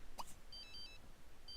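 A phone rings in The Sims 3, a few short electronic trill bursts sounding faintly and repeating with brief gaps, alone over a soft hiss.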